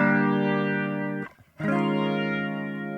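Rotary speaker cabinet effect on a sustained tone, swirling with a chorus-like, slightly distorted texture; the sound cuts out briefly for about a third of a second mid-clip, then resumes at full level.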